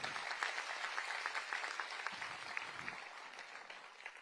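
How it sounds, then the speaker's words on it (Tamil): An audience claps steadily at an award ceremony honouring self-help groups, a dense, even patter heard from a distance and fairly faint throughout. "அவர்களுக்கு நம்ம அனைவரும் சார்பாக பாராட்டுகளை, கைத்தட்டுகளை தெரிவிப்போம்."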